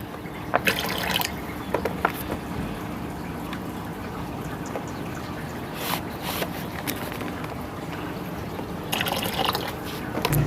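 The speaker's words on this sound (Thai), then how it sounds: "เราเติม น้ำลงไปเสร็จแล้วนะคะ" Water being poured into a plastic bottle for growing salad greens, a steady trickling and splashing flow with occasional drips and a few light plastic knocks, close by with no talking.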